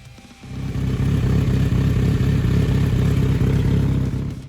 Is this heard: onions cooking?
no